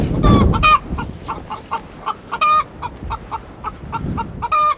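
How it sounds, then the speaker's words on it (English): A laying hen squawks close by on a farm in rural Ireland, giving a couple of loud harsh cries broken up by quick clucks. "A bird of lay, keeping on squawking like this"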